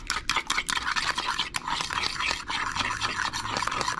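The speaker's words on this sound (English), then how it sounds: "We're gonna whisk that up." Large eggs are whisked in a bowl, a fast steady scraping and ticking of the whisk against the sides, close and continuous for several seconds with no talk.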